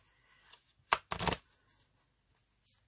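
A pack of cards is shuffled close by in short bursts: a quick sharp riffle followed by a longer papery flurry, then faint shuffling flicks in a quiet room.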